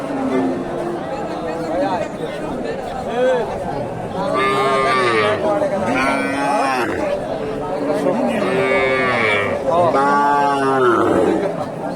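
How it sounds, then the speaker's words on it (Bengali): Cattle lowing at a busy village cattle market in Bogura, Bangladesh, with tall Sahiwal and cross-bred cows; several drawn-out moos rise and fall in turn while people talk and chatter close by throughout. "অনেক উঁচা লম্বা একটা গরু দেখেন"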